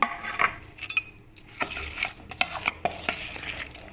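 A spoon mixes puffed rice uttapam batter with vegetables in a bowl, producing irregular clinks and scraping taps in quick clusters, close and fairly crisp, with no talking.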